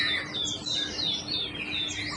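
Several birds chirp and whistle in overlapping high calls in a dawn chorus, a steady chorus of tweets with no talking.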